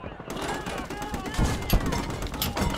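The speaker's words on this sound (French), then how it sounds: "Ouh, un canon de 20 mm!" A 20 mm cannon firing in the World War II game Call To Arms Gates of Hell, heard as rapid sharp reports in a noisy battle mix with machine-gun-like bursts throughout.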